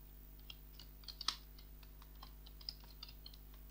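Faint, quiet typing on a computer keyboard while entering data in Excel, a scattered run of light key clicks with one slightly louder tap.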